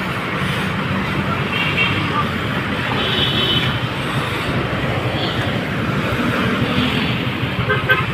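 Busy street traffic on Makati Avenue, a steady, loud roadway roar with car horns tooting at intervals. Faint voices sit under the traffic.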